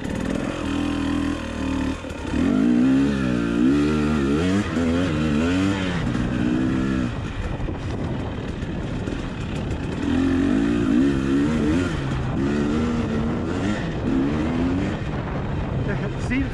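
A 2021 KTM 300 XC two-stroke dirt bike held in third gear, its engine droning steadily with rising and falling pitch as the throttle varies, loud and continuous with no clear talk.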